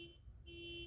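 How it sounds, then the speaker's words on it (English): An alarm sounds somewhere nearby as a faint, steady electronic tone, pausing briefly and then resuming over a low rumble, with no talk. "someone's alarm going off"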